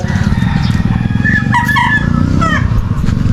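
Chickens and roosters kept at a home make clucking and crowing calls that rise over a loud, constant background of low noise, with several overlapping bird voices near the midpoint.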